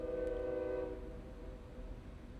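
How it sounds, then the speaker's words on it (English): A train horn sounds outside at a distance, steady tones holding for about a second before fading into rumbling background noise. "That was the train, the magnificent train that I have outside."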